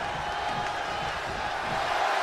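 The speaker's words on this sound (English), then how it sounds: "This capacity crowd is sending him love, and he's sending it right back." A dense arena crowd roars and cheers steadily throughout in the WWE 2K25 wrestling game during a handicap match, a loud continuous wash of voices with no clear pauses.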